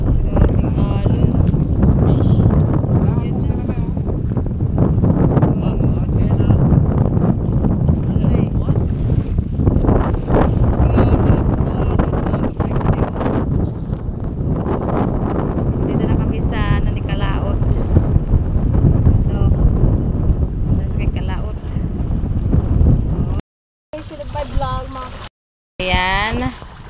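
Strong wind buffets a small boat out on choppy, wavy Taal Lake, a constant loud rush of wind noise across the microphone with water slapping beneath, while people talk and shout over it, then brief dropouts near the end.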